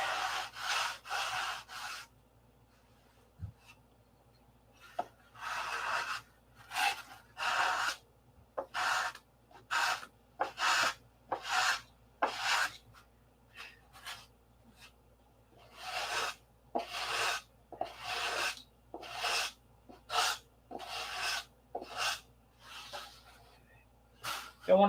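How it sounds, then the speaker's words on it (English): Sandpaper rubbing a P-47 model airplane wing, close by, in repeated short rasping strokes grouped into bursts with brief pauses between them. "Don't want to sand too much on that."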